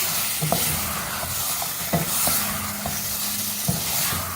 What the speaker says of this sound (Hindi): अब इसको भी साथ भूनेंगे